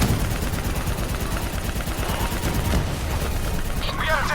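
Gunfire aimed at a VTOL aircraft in the Call of Duty: Black Ops 3 battle, continuous loud rattling bursts with shouting voices over it.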